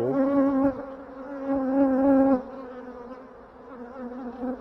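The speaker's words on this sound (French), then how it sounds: "Il n'y a plus trop d'abeilles." Bees buzz at a failing beehive colony, a close, loud, steady droning hum with wavering pitch that dips and softens after a couple of seconds.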